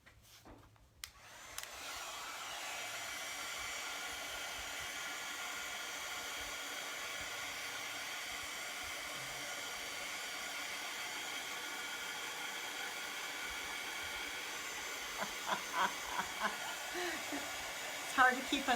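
A hair dryer switches on after about a second and blows with a steady, loud, even whoosh for roughly seventeen seconds, drying something, with a few faint knocks and tones near the end.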